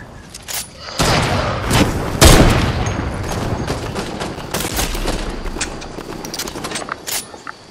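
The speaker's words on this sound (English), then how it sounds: "I sniped somebody in the head with a cheeky snipe." Sharp gunshots and booming rifle fire in a shooter video game, with a heavy blast near the start and scattered cracking shots, some close and loud, others lighter, over a busy background.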